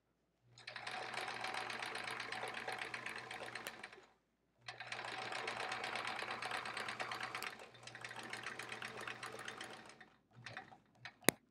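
A sewing machine free-motion quilting couched stars onto a baby quilt runs in three long steady whirring bursts separated by short pauses, close and clear, ending with a few brief stitches.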